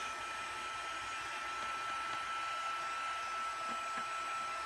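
A handheld craft heat tool blowing hot air during card stamping, a steady, even whooshing hiss that runs unbroken throughout at moderate loudness with no talk.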